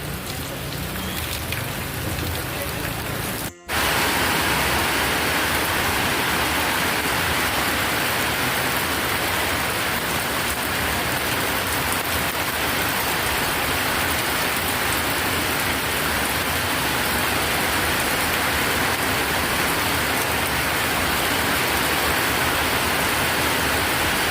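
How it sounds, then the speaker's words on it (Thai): Heavy, steady rain pours down at a riverside market by a pier in Pak Kret, a dense unbroken hiss after a brief break near the start, loud and close with no voices. "รอบนี้ฝนตกนานมากเลยตั้งแต่นู่น"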